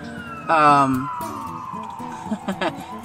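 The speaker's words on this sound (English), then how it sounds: "Already busy with the sirens." A siren wails in the distance, its pitch sliding down steadily, while a person talks over it in bursts.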